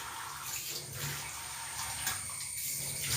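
Tap water runs steadily under a kitchen pipe for a few seconds, a broad continuous splashing rush with no voices.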